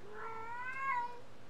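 A cat gives a single drawn-out meow, fairly soft and close, rising and falling over about a second.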